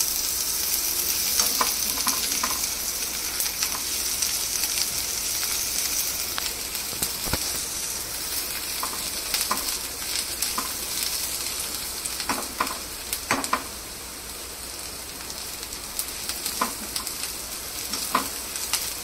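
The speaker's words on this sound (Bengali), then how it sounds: "পেঁয়াজ ভাজার সময় একটু হাই ফ্লেমেই রাখবো গ্যাসটা" Onions frying in oil over a high gas flame while chicken bhuna is cooked, a steady close sizzle with occasional clicks of stirring and no talk.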